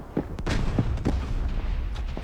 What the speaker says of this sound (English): Pops a nade through.